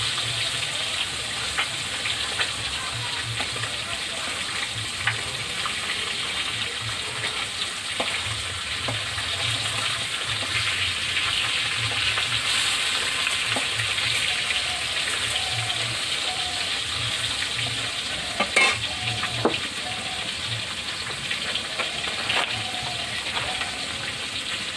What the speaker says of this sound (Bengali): কড়ার মধ্যে 5 পিস মাছ দিয়েছি, এটা আমি লাল লাল করে ভেজে নেব।